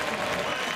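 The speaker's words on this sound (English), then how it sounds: "listen to the crowd" A drag-race crowd roars and applauds in a brief, dense wash of cheering heard at a distance, with no clear break.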